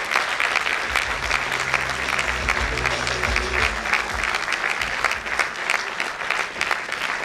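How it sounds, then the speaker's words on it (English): A school concert audience applauds steadily as teachers come on stage, a dense, even wash of many hands clapping for several seconds while voices murmur underneath. "So please welcome the team on stage with a big round of applause."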